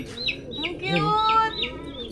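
Fancy chickens at a bird loft cluck in short, repeated chirpy bursts at close range, with soft background noise and a hint of voices nearby.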